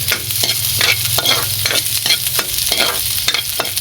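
Coconut milk and fragrant aromatics stirred in a hot pan before snails go in, a loud continuous sizzle with rhythmic scraping strokes of the spoon, close and with no voices.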